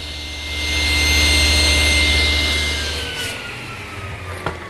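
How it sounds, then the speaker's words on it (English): A table saw mitres a 1x6 frieze board for an exterior cupola, giving a loud, steady motor hum and whine that swells during the cut and fades as the blade spins down, ending with a small knock. "I'll miter it over at the table saw."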